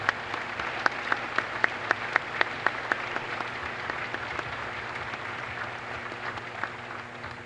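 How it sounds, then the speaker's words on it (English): Applause from a ceremony crowd at the Naval Academy's Induction Day, greeting the class of 1971 and retired officers: a faint, steady patter of many hands with a few sharper nearby claps standing out, fairly distant and without talk. "Let's give them all a big round of applause."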